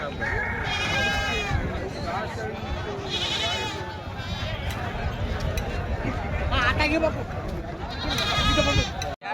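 Goats bleating repeatedly at a village goat market in Borda, Hingoli district, many calls overlapping at close and middle distance amid a constant crowd babble and talk.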